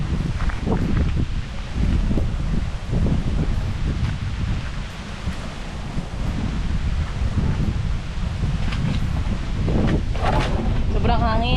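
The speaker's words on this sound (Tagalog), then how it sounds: "Sobrang hangin." Strong wind roars and buffets the microphone continuously outdoors at a bamboo nipa hut, loud and gusty, with rustling and a few faint voices underneath.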